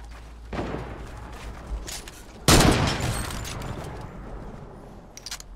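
A sniper shot in the Fortnite video game, one sharp loud crack midway with a decaying echo, after a few fainter distant shots and clicks.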